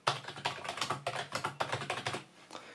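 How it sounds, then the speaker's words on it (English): Keys on a Corsair K55 keyboard pressed in a quick, steady run of close, soft clacks, alone with no talking. "let's listen to how the keys sound"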